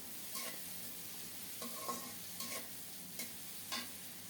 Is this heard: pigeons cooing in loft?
no